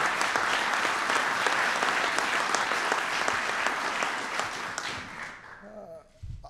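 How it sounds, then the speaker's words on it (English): A large audience at a Small Business Jobs Act event applauds loudly and steadily for about five seconds, the dense clapping then fading out quickly as a voice begins speaking near the end. "Give them all a big round of applause."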